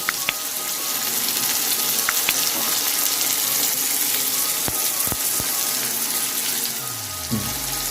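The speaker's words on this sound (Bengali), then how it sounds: "পেঁয়াজটা তখন ভাজা হোক" Onions frying in a pan of oil over a medium-high gas flame for a Bengali chicken curry give a steady, close sizzle throughout, broken by a few light clicks and a low rumble near the end.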